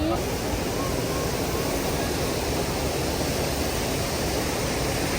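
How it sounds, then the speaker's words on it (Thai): Water thunders down at Wang Kan Lueang waterfall, a steady, dense broadband rush that fills the clip from start to finish with no break in intensity. "นี่คือน้ำตกวังก้าเหลืองนะจ๊ะ"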